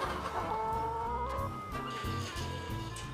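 Hens clucking together on a struggling egg farm, with a steady chorus of overlapping clucks and low murmurs continuing throughout, close and fairly loud, with no talking.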